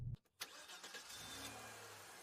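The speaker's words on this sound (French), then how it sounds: "Bip bip! Une voiture!" A car engine cranks and catches after a brief silence, then settles into a steady low idle, loud and close with no talking.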